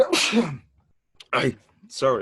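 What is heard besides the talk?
sneeze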